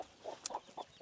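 A mother hen clucks repeatedly to call her chicks, soft low clucks in an uneven rhythm with a brief higher chirp from a chick, close by and fairly quiet on a small backyard flock.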